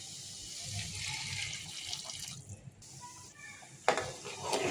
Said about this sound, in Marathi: आता मी ह्याच्यामध्ये कोमट पाणी घालून घेते.